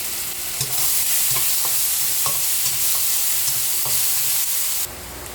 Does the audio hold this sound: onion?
yes